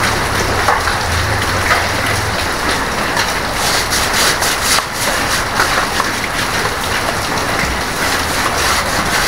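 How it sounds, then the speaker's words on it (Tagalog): A sudden tropical rain shower pouring onto surfaces outdoors, a loud dense hiss of falling rain that continues steadily throughout with no talk. "Biglang umulan."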